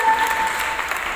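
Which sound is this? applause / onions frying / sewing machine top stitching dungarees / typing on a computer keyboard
applause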